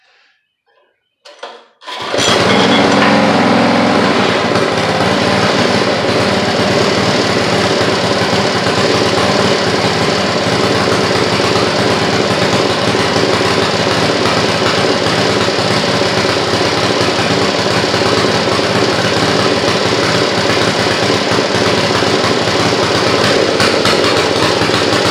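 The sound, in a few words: rototiller engine starting and running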